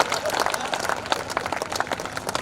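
An audience at a Hindi comedy poetry gathering claps in dense, continuous applause, with a few voices mixed in.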